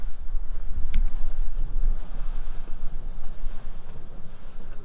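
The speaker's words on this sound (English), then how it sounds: "You can hear a lot of water moving, but the steam's so thick you can't see anything." Water churns and rushes at a steaming geyser pool called Jelly Geyser, near Red Spouter, as a continuous low rumbling wash mixed with gusty wind buffeting the microphone, loud and close.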